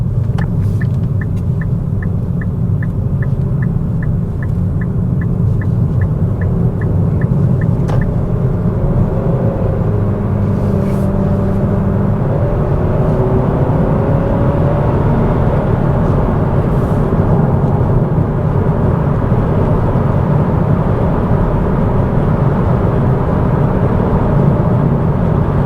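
A 2026 Nissan Sentra SR accelerating on the road, heard from inside as a loud, continuous low engine drone and tire rumble with a faint ticking early on, steady for the whole stretch without talk.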